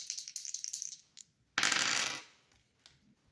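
Dice roll in a single burst, tumbling and clattering across a hard surface, loud and close, after a few lighter rattles and clicks.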